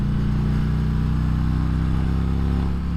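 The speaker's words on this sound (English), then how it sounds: "this is the way a Harley's supposed to sound, and Vance and Hines did a great job in making that happen" A Harley-Davidson Road King fitted with a Vance and Hines Torquer 450 exhaust rumbles loud and close, a deep steady V-twin idle with a choppy low pulse throughout and no voices.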